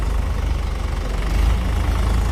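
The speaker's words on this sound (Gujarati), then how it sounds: "તો જો આ ટ્રેક્ટર છે એક." A tractor engine idling in a farm field, a low, steady, throbbing rumble with a slight knocking pulse, continuous and fairly close, with no talking.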